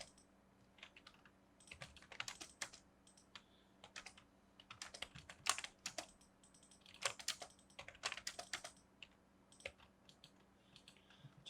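Commands typed on a computer keyboard during drafting software work, bursts of quick, close key clicks separated by brief pauses, with no talking.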